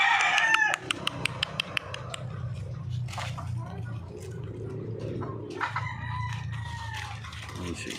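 Rhode Island chickens cluck and peck while eating kangkong nearby, with short repeated clucks at first and then a busy flock murmur mixed with soft pecking and feeding sounds.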